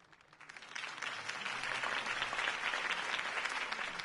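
Sustained crowd applause rises quickly after a campaign speech for Harvey Dent and holds steady at full strength, a dense wash of many hands clapping throughout.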